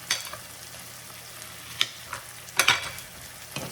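Frozen garlic sizzling in a pan for pangas fish curry, a continuous frying hiss with a few sharp spoon clinks and stirring scrapes.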